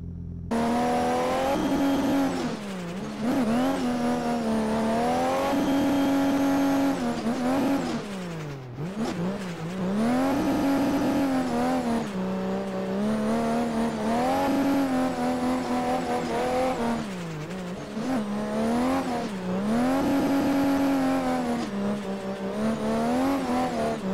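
A race car in a racing video game roars steadily as the engine climbs and falls through repeated gear changes, with brief dips between runs of acceleration.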